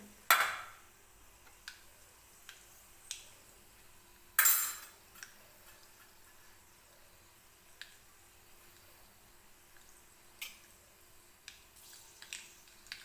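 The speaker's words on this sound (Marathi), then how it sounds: "तर हे बघा छान अशी मोहरी तडतडायला लागलेली आहे" Mustard seeds crackle and pop in hot oil in a kadhai, giving sharp, sparse snaps scattered every second or two, with two louder bursts, against a quiet hissing background.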